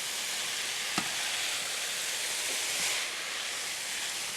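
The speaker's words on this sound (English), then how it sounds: "Stir all that together" Noodles being tossed with tongs in a hot pan, a steady bright sizzle with a sharp metallic click near the start and soft scraping movements afterward, close and alone.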